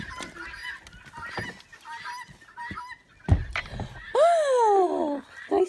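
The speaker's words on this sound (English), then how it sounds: "So these creatures, my little hens here, they're acting up." Pet hens act up with scattered clucks and squawks, then a loud, drawn-out honking call near the end, all close by with pauses between the outbursts.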